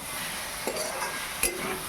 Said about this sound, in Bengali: ভালো করে আবারও নেড়ে নেব